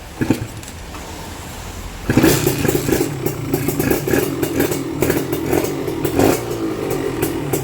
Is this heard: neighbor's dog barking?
no